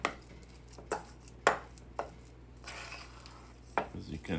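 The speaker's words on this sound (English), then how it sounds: "I mix it again." A cream cheese spread with mint, salt and pepper being mixed in a bowl, a series of separate clinks and scrapes of a utensil against the dish, close and fairly quiet.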